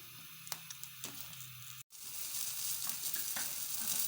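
Brinjal roasting directly over an open flame for bharta gives a steady close hiss and sizzle with small crackles. The sound cuts out briefly midway, then resumes a little louder and continues without any voices.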